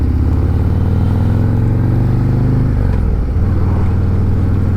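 A motorcycle braking hard from 60 mph: a loud, steady engine drone close by that drops in pitch as the bike slows near the end.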